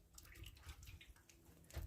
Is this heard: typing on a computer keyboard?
no